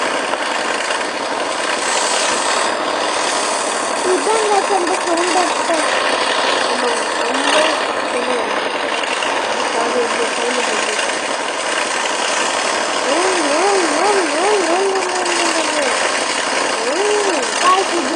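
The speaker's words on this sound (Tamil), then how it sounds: "நம்ம வண்டி ஓட்டிட்டு இருக்கோம் உங்களுக்கு சவுண்ட் எஃபெக்ட்ஸ் தர" A person voices a vehicle engine while driving in the game Human Fall Flat on the power plant level, a continuous wavering hum with rising and falling pitch swoops over a steady background drone.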